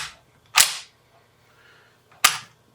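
Two sharp metallic clacks of a Marlin model 57M lever-action rifle being cycled with a very short throw, each crisp and close, spaced well apart with near silence between them and no talk.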